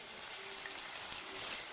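Water being poured into frying masala for a sardine curry, a faint hissing splash and sizzle that stays soft and continuous throughout.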